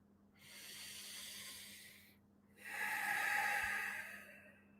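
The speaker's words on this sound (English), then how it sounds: "Listen to your breath." Two slow, deep breaths during a guided breathwork meditation, a long airy inhale-like hiss followed by a pause and a stronger, brighter exhale, close and alone.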